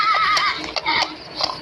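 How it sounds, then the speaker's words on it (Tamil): A horse neighs in the survival video game 99 Nights in the Forest, a clear, fairly loud whinny with a few hoof clops mixed in, with no talking. "ஏதோ குதிரை சத்தம் கேட்டுச்சு"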